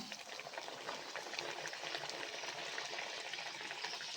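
A steady, crackling sizzle of karavarki snack batter frying in hot oil over a low flame fills the whole stretch, even and unbroken, with no voices.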